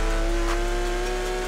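A Porsche 911 GT3 RS flat-six holds a loud, steady high-rev drone in Forza Horizon 4, close and sustained for a brief moment with no talk.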